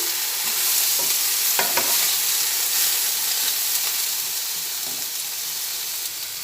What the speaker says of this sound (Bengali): আবার একটু ভালোভাবে নাড়াচাড়া করে নিই বেগুনটা একটু ভেজে নিচ্ছি